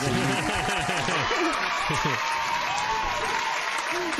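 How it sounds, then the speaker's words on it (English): Applause plays as a sound effect during a podcast, a continuous burst of clapping layered under lively talking voices, with a few laughs mixed in. "Where's the claps?"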